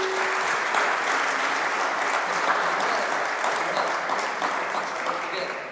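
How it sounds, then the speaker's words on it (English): Audience applause for the panelists at a conference on decarbonized, resilient road infrastructure, a steady dense wash of clapping filling the hall at even loudness throughout. "I ask you to join me in a round of applause for these excellent panelists"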